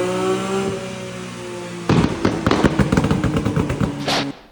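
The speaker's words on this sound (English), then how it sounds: "obviously activated burbles, some flameage" A modified BMW Z4M with a CSL airbox revs, then its exhaust crackles into a dense burst of burbles and sharp flame pops. The loud, rapid, irregular popping runs for over two seconds after a steady idle-like hum.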